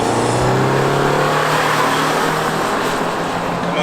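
A Subaru Outback with a CVT roars loudly and steadily, revving hard under full acceleration in a drag race, close and continuous.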